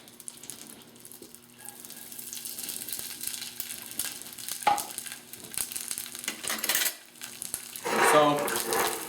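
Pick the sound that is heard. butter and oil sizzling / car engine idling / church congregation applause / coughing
butter and oil sizzling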